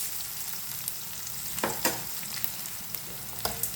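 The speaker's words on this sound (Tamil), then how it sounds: "வெங்காயம் ஓரளவு வதங்கிட்டுது" Onions sizzle as they sauté in a pan for mushroom curry, a moderate steady crackle punctuated by several sharp scrapes and taps of a spatula stirring.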